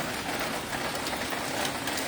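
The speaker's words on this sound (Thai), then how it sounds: "ดูฝนตกแล้ว" Rain falling on garden plants, a dense, even hiss of drops on leaves, close and steady for the whole short stretch with no voices.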